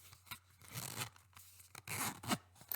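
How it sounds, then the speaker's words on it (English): A rugged zipper on a bag pulled open or shut in several rasping strokes, close and fairly loud, with brief pauses between pulls. "a nice rugged zipper"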